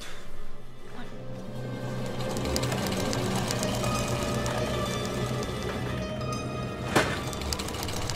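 A sewing machine runs continuously with a steady, rapid mechanical whir and rattle, fairly close, with a brief sharp clack near the end.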